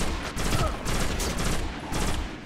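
Sustained gunfire in the video game Destiny on Mars, loud rapid bursts of shots in pulsing volleys that fill the short clip.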